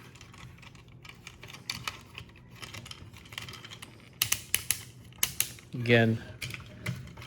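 Metal Cardbot W Heavy Iron toy's ratchet joints clicking in a quick series of sharp, close snaps, with a voice speaking briefly amid the clicks.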